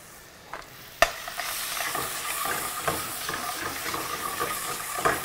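About a pound of seasoned duck livers fries in a hot pan, giving a steady close sizzle and hiss, punctuated by a sharp clank of utensil on pan and occasional stirring scrapes.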